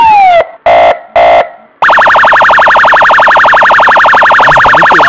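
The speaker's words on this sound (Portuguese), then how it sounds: "Era pra tu ter um som de sirene de viatura pra esses vídeos de abordagem." A loud police siren: two short electronic tones, then a rapid, continuous yelping wail that pulses evenly and stays close and piercing.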